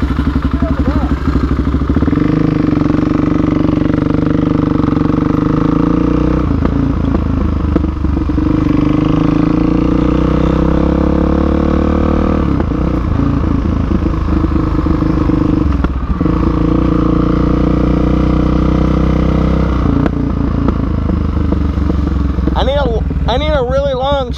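Suzuki DRZ400S or Yamaha WR250R dirt bikes revving hard in second gear while pulling wheelies, a loud steady engine drone with rising and falling pitch, close and continuous, with riders talking over it and some clatter near the end.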